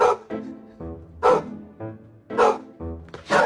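A dog barks repeatedly at balloons, loud and close, in short separate woofs and yips with brief gaps between them and no talking.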